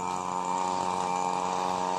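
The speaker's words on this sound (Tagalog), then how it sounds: "Ayan po, nag-grass cutter po." Handheld grass cutter engine running steadily while cutting grass along a stony edge, a loud, continuous buzzing whine with a strong tonal hum and no pauses, close to the listener.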